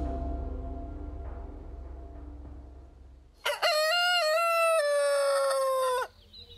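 A single loud, close rooster crow rings out for about two and a half seconds after a quiet, murmuring stretch, used as a sound effect in a spoken story.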